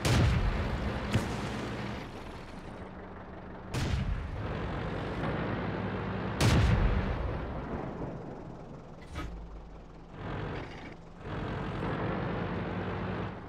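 Tank cannon fire in the World of Tanks video game, with several sharp booming shots spaced a few seconds apart over a continuous engine rumble, loud and close.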